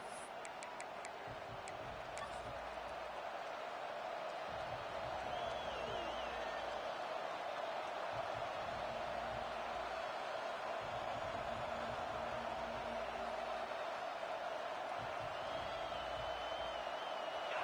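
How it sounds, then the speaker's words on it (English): A football stadium crowd murmurs and roars as a steady, distant wash of noise throughout, with a brief rise in cheering and faint ticks early on. "This crowd ready to make its presence known."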